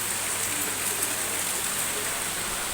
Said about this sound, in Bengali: এখন দেখো কী হারে বৃষ্টি হচ্ছে